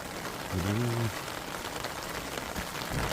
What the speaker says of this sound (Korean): 빗소리 들으면서